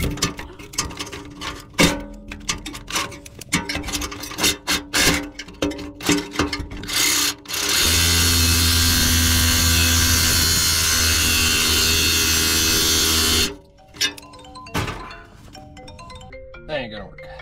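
A reciprocating saw cuts into rusty metal on an old junkyard tow truck with bursts of rapid rattling strokes, then a loud sustained six-second cut, with someone talking before and after.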